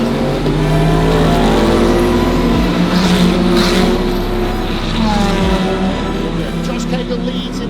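A pack of race cars at the start of the WEC 8 Hours of Bahrain roars in loud sustained acceleration, engines rising and shifting together, with commentary running over them.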